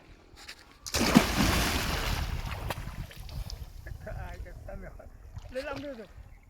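A person wearing an inflatable air bag jumps into a farm pond, a sudden loud splash followed by churning water that fades, with people talking afterward.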